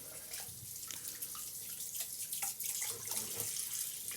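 Tap water runs into a sink as a Gillette Slim safety razor is rinsed, a soft steady splashing stream broken by faint clinks and drips, close and quiet.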